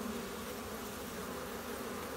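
Honey bees buzz in a dense, steady drone at an Alabama hive in late winter, the hum continuous and fairly close without any voices.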